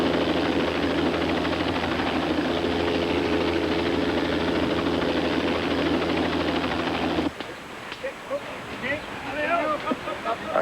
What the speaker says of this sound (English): The air ambulance helicopter pilot decided to try to land on the logging bridge.